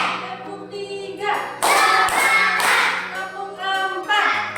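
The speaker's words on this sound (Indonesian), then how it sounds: "Tepuk tiga." Group hand clapping in a set rhythm pattern, several sharp bursts of claps in a row with short pauses between, fairly close, with a voice singing or chanting underneath at the start.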